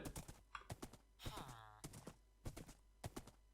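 Hollow clip-clop of Minecraft horse hooves in an uneven trot, punctuated by bright chimes and a sweeping whoosh, close and fairly loud.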